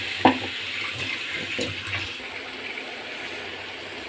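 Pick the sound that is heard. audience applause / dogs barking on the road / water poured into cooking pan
water poured into cooking pan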